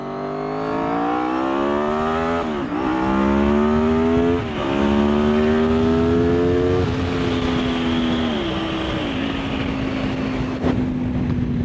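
A Honda VFR 800FI motorcycle engine on the road revs up repeatedly through the gears, each rising whine dipping at the shift, loud and close with heavy wind rush, no talking.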